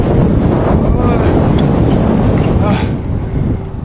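A strong wind gust buffets a cyclist on a bridge along China's G314 highway in Xinjiang, a loud, continuous roaring rumble of wind noise on the microphone that eases slightly near the end.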